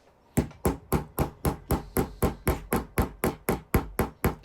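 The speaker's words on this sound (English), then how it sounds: "Here I'm hammering the bearings in on this steel plate" Steady, evenly spaced hammer blows drive bearings into a steel plate, about fifteen sharp metallic strikes in quick succession, close and loud, with no voices.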